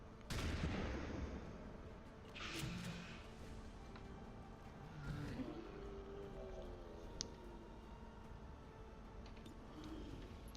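Soldiers firing weapons in the XCOM 2 video game, a few distinct gunshot bursts spaced a couple of seconds apart, sharp and fairly loud over a low rumbling game ambience, with no talking.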